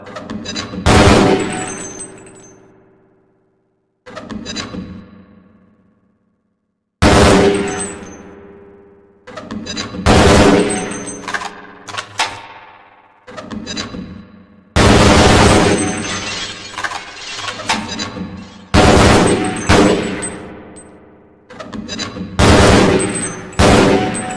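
Sharp gunshots and heavy blasts, with grenades among them, crack in separate bursts on a target range in Half-Life: Blue Shift. Each burst ends in a decaying echo, and short silences fall between the clusters.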